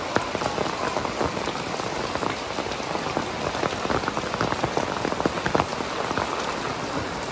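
Steady rain pours over a Xi'an urban village, a dense, continuous patter of drops striking surfaces close by, with no voices.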